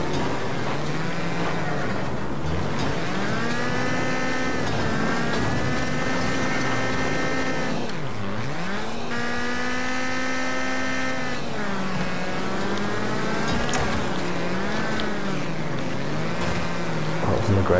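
Engine noise from cars in the Wreckfest demolition racing game, a steady loud drone with rising and falling revving pitch throughout, dipping sharply once mid-run before climbing again.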